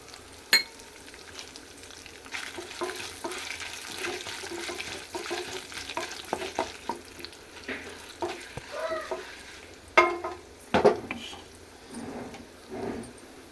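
Dried red chilies fry in a pan with a steady soft sizzle, mixed with scattered scraping and stirring clatters, including a sharper knock near the end.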